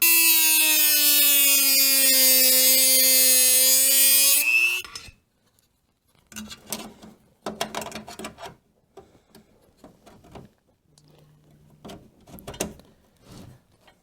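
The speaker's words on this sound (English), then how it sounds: "I'm gonna have to like Dremel that off just to get it to fit." A Dremel rotary tool grinds a laptop case with a loud, steady high whine for about five seconds, then stops abruptly, leaving scattered handling clicks, scrapes and rattles of plastic parts.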